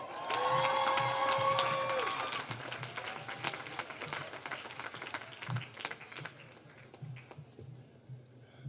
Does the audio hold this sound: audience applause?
yes